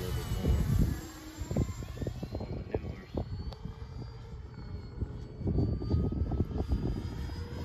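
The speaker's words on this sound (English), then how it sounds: "Very solid plane." FMS P-47 Razorback 1500mm RC model airplane flying over an RC field in Louisiana, a steady propeller-engine drone that rises and falls in loudness as it passes, heard alone without talk.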